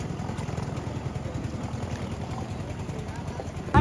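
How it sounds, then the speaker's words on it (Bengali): A wooden ferry boat's engine chugs steadily in a rapid, low, even putter close by, ending in a sudden loud bump or clatter. "এটা হচ্ছে খেয়া নৌকা।"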